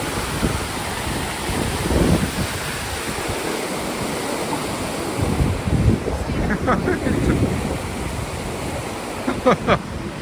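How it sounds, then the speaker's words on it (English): The River Wharfe flows fast near a line of stepping stones, a steady broadband rush of water buffeted by wind on the microphone, with a few faint higher-pitched sounds toward the end. "How fast that's flowing there. The River Wharf."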